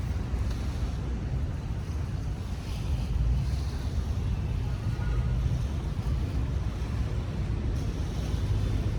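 Waves roll onto the beach shore of Manila Bay, heard as a continuous broadband wash of surf mixed with heavy wind buffeting the microphone, steady and loud throughout with no voices.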